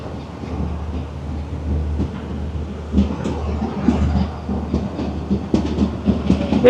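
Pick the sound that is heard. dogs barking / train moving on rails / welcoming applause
train moving on rails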